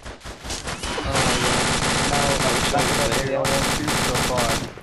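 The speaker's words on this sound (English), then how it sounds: "Start shooting him from behind" Sustained, loud automatic gunfire from the video game DayZ, rapid bursts overlapping into a dense barrage with brief gaps, with voices talking over the shooting.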